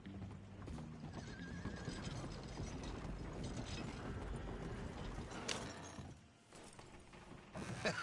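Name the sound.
horse clip-clop and whinny in video game Red Dead Redemption 2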